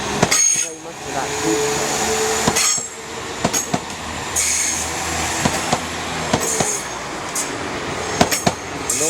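A Class 195 passenger train departing Leeds station, with loud, close wheel squeal and repeated clanks and rattles of carriages rolling over track joints.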